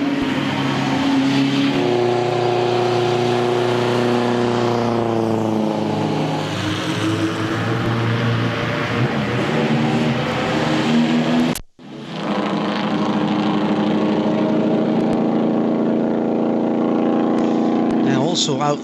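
Vintage racing cars circle during the night session of the Le Mans Classic, a Lagonda and an old Ford among them. Loud engines roar and rev past close by, one pass after another, with a brief gap part way through.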